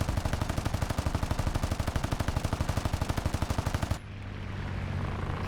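Machine guns of an F4U-4 Corsair fighter in War Thunder fire a rapid, steady burst of loud, evenly spaced shots for about four seconds, then stop abruptly, leaving engine drone and ringing.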